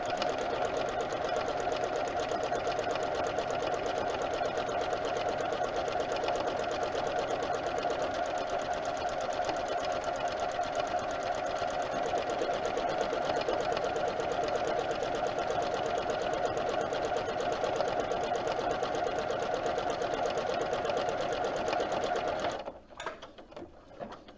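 A sewing machine stitches a buttonhole in a steady, fast, whirring mechanical run that goes on without pause and stops abruptly near the end, close up with no talk.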